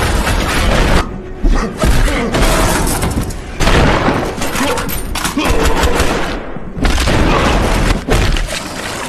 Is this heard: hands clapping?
no